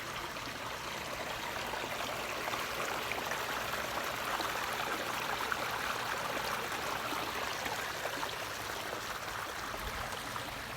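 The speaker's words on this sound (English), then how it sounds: "The sound of this waterfall from inside their house and on their patio here just sounds wonderful." A backyard pond waterfall with cedar driftwood splashes and flows steadily, a continuous soft hiss of falling water heard up close and alone.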